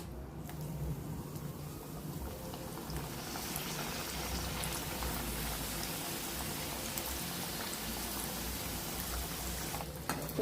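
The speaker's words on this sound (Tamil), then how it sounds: "இப்போ ஒரு கடாயில் எண்ணெய் காய வச்சு சமோசாவை சுட்டு எடுத்துக்கலாம்." Onion samosas deep-fry in hot oil in a kadai, giving a steady, loud, dense bubbling sizzle that runs unbroken throughout with no talk.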